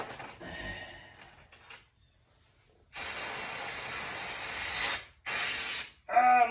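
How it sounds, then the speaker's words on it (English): Brake cleaner sprays from an aerosol can during a Farmall C cylinder head rebuild, loud hissing bursts up close: one long blast of about two seconds followed by a shorter one, after quieter handling noises. "I'm on a brake clean."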